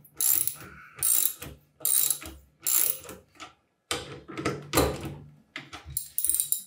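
Ratchet wrench tightening bolts on a very large mechanical arcade stick build, giving repeated bursts of rapid clicking with short pauses between strokes, close and fairly loud.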